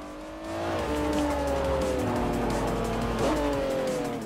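A race car in Forza Motorsport 4 brakes hard, its tires squealing and skidding over a droning engine, loud and continuous for a few seconds with no speech.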